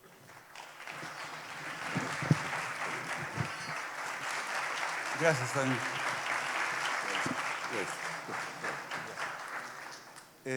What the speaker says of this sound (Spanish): les pido que reciban con un fuerte aplauso